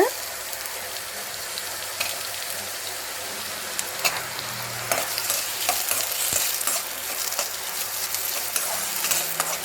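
Onion, garlic and ginger sautéing in a pan for paneer butter masala, a steady close sizzle with scraping stirs and clicks of a spatula throughout, no talk.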